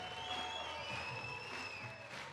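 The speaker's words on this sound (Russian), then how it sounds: "Ребята, еще сильнее аплодисменты!" An audience applauds at a business conference in Novosibirsk, a steady wash of clapping heard from some distance, with faint whistles and a voice through the hall speakers.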